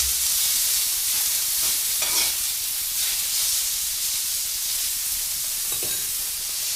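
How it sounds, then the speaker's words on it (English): Thinly sliced beef sizzles hard in a hot pan, a dense unbroken frying hiss with a few faint clinks of utensils. "throw the beef in there. It's really thin."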